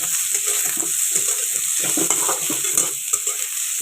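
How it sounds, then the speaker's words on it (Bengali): Garlic and chopped onion fry in a pan under constant stirring, a loud, steady sizzle layered with soft scraping and clinking from the utensil, with no voices. "এখন রসুন আর পেঁয়াজ কুচি দিয়ে দিলাম, দিয়ে ভালো করে নাড়িয়ে"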